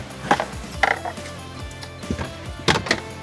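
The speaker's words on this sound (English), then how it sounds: "Remove 3 fasteners using a T30 Torx bit." Ratcheting and clicking as three fasteners are removed with a T30 Torx bit from plastic trim on a 2021-2025 Volkswagen ID.4: a few sharp close clicks and mechanical ratchet sounds in short spaced bursts.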